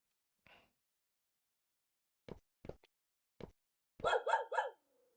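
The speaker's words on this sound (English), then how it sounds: "toy dog that can make noises." A toy dog in the video game Firework makes noise: a single faint yip, then a few short isolated barks, and finally a quick burst of three louder barks against otherwise near silence.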